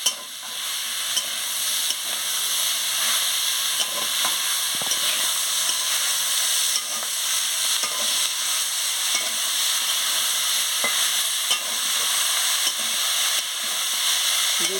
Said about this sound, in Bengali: আমি কুমড়োর ফুলটা দিয়ে দিচ্ছি। দিয়ে ভালো করে নাড়িয়ে নিচ্ছি।